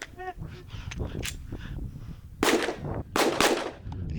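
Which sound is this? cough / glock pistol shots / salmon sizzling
glock pistol shots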